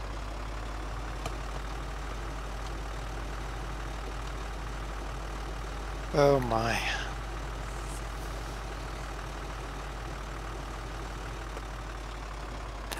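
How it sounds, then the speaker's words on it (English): A heavy Xerion tractor engine in Farming Simulator 2013 idles with a steady low rumble throughout; a voice briefly exclaims midway, then the droning continues. "I do like the sound of this Xeron's engine."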